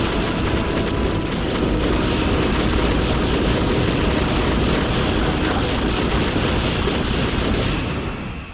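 Hind helicopter from Metal Gear Solid roars in a continuous, loud, dense engine and rotor drone with rapid blade chop, holding steady for several seconds before easing off slightly.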